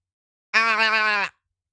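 A human voice imitating a goat bleat, a single wavering, nasal call lasting under a second, close and fairly loud, alone against silence.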